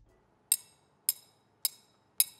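A metal triangle struck in an unusual way gives four evenly spaced bright, short clinks, each fading quickly, moderately loud and close, with no talk.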